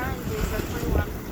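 Wind rushes and water washes around a sailboat under mainsail and headsail at sea, making about 7.8 knots in a strong breeze off the port beam. A continuous broadband roar fills the clip, close and loud, with no pauses.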